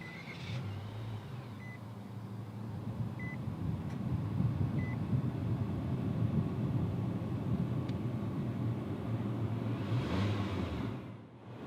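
A 2018 Nissan Kicks SV engine starts by push button, settling into a steady low idle rumble inside the cabin, with a few short soft chime beeps early on and a brief dip near the end.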